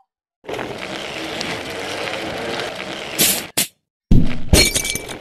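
Glass shatters in the physics game Happy Wheels, coming in loud, crashing bursts after a steady rumbling background, with brief bright breaking hits and a final burst of crashing debris.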